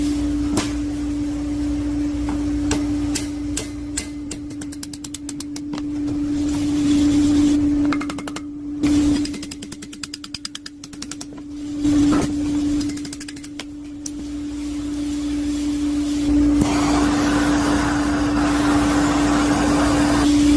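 A heat gun blows steadily on the plastic surface of a Toyota Prius during a crack repair, a constant droning hum with a few brief dips and pauses as it is moved, loud and close throughout with no talk.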